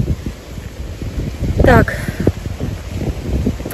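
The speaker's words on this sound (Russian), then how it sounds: "Наверное, будет ветер в камеру очень сильный." Strong gusty wind buffeting a camera microphone outdoors in a city square, low rumbling bursts and rustling, with a woman's brief speech and a passing squeak mixed in.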